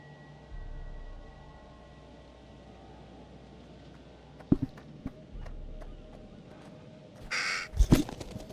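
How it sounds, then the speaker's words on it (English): Crow cawing inside the horror video game The Dark Pictures: The Devil in Me, a few harsh caws near the end over a quiet ambient background with occasional thuds. "Oh, spooky crow."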